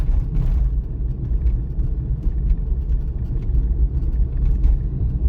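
A car drives along a road on a driving-test route at about 40 km/h, its engine and tyres giving a steady, moderately loud interior rumble with no one talking.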